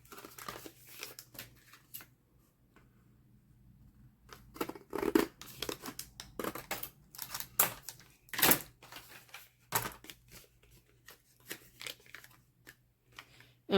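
Scissors snipping and crunching through the thin cardboard of a spaghetti box, close and dry, in irregular bursts with short pauses and occasional papery crinkles.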